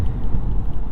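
A 2022 Ford Maverick with the 2.5-liter hybrid powertrain drives along, giving a steady low rumble of road and engine noise with wind hiss, continuous and fairly loud throughout.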